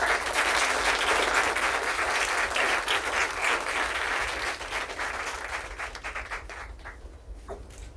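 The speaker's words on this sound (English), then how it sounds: "a big round of applause for all." Audience applause at a Mother's Day event, a dense wash of clapping from a crowd that holds steady and then thins out and fades toward the end.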